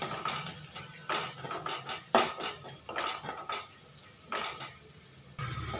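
Spiced plantain with onion being stirred and sautéed in a pan, heard as clinking and scraping of a metal spoon against the pan in irregular bursts, close and fairly quiet with no talking.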